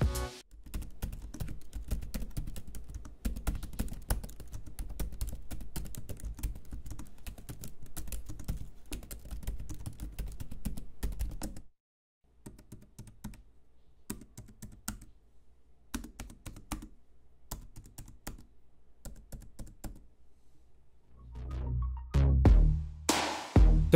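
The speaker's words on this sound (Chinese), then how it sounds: "键盘上也有全区的白色背光，不过键程个人觉得有点略短。" Typing on a Lenovo IdeaPad Pro 5i laptop keyboard with short key travel makes rapid, close clicking bursts, a brief pause, sparser keystrokes, then a louder thump near the end.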